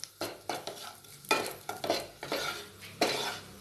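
Cashews being roasted light brown in a pan for saffron rice kheer, stirred with a spoon: a run of quick scraping strokes over a steady dry sizzle, close and clear, with no talking.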